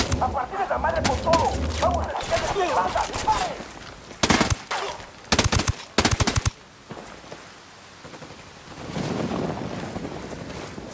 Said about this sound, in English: Shooting these fuckers.